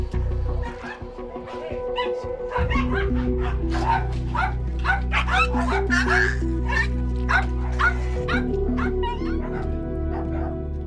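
Dogs trapped in mud barking and yelping in repeated sharp bursts, several voices overlapping, over a steady low hum and some background talk.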